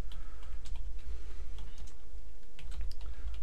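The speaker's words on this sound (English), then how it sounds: "so we'll type in the author" Steady, rapid typing on a computer keyboard, with close, dense keystroke clicks running continuously and no talk over them.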